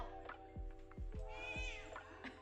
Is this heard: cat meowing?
yes